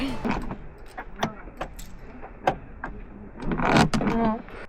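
Keys jangle and scrape at the door lock of a big blue camper van in Spain, with repeated metallic rattles close by that grow busier toward the end.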